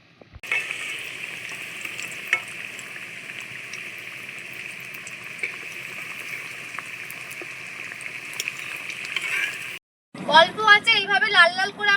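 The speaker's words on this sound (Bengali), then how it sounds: "আমরা সবগুলোকে ভেজে নেব" Potato pieces fry in hot oil with a steady, even bubbling sizzle for several seconds, close and moderate in level; after a brief silence a voice talks over the end.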